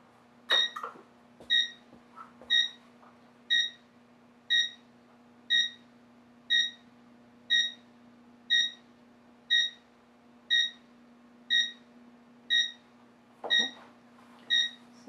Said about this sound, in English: I have the audible timer set, which has a beeping sound